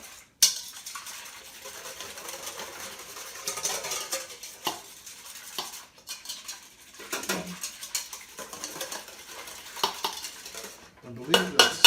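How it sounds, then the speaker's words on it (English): Batter for panettone is gently whisked in a bowl, soft scraping and light clinks of the whisk against the bowl in uneven strokes, close and fairly quiet throughout. "I try to be very gentle in my whisking."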